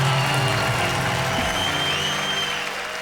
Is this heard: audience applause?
yes